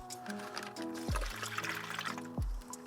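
Soy sauce, about 150 ml, poured into a Ziploc bag as a beef jerky marinade, a soft trickling, gurgling flow heard close up in two short bursts.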